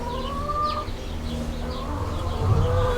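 Backyard laying hens cluck and murmur nearby, a mix of soft repeated clucks and higher trilling calls over a low farmyard background, with no one talking.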